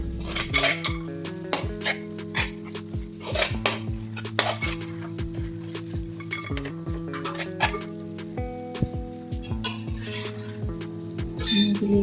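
Cooked beef is stirred in a metal pot while making beef biryani, with a spoon scraping and clinking against the pot in a steady, busy rhythm, close and clear, and no voices.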